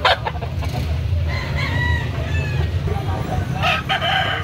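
Gamecocks crow in overlapping calls at a market in Carbon, Cebu City, several birds near and far over a steady low murmur of people and activity.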